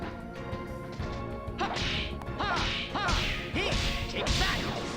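Sharp punching impacts from The Legend of Dragoon land in a quick flurry, each a crisp whack with a swishing tail, layered over a continuous game music bed.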